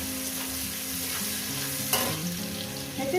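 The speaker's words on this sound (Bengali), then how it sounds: "রসুনটাকে মিনিমাম এক মিনিট আমি ভেজে নেব" Garlic frying in a pan, a steady sizzle under persistent stirring, with a crisp utensil knock near the middle and more scraping toward the end, close and without speech.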